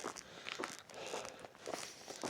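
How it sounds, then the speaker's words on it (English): Footsteps on a forest trail crunch along in an uneven rhythm of soft, close steps over leaf litter and dirt, quiet and alone in a still setting. "the only noise that I've heard this morning in the forest is my footsteps, the wind,"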